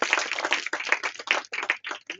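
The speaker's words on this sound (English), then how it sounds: "Round of applause for you." A live crowd claps in applause as guests join a presenter on stage at a TNB Xpo 2026 Q&A event, a dense, steady patter of many hands that swells and dips in waves without pause.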